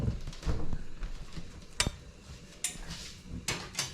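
Fried banga mary fish going into a pot of simmering cassareep sauce, heard as a few distinct metallic clanks and clatters of utensil against pot, spaced about a second apart over a low kitchen background.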